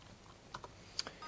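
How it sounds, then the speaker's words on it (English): A few quiet, separate keystrokes on a computer keyboard, light clicks spaced unevenly in a short, near-silent stretch. "So I'm going to use a keyboard."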